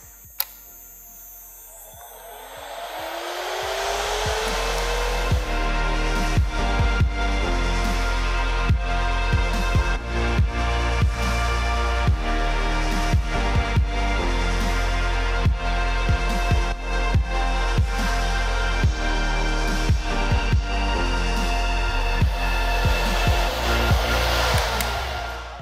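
An electric nail drill fitted with a bit and set to about 5000 rpm spins up with a rising whine, then runs as a steady close, loud whir with faint ticking clicks throughout.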